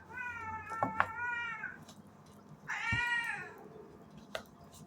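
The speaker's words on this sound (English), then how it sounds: "there goes my Leo cat" A cat lets out two drawn-out meows a couple of seconds apart, close and clear, with a few small knocks around them.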